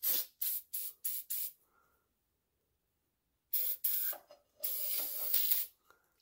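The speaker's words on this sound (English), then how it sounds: "I'm still going to give him a little squirt of oil," Oil squirts into a 1948 Elgin outboard motor: five quick, close spray bursts in a row, a pause of silence, then a couple more hissing bursts, the last one longer.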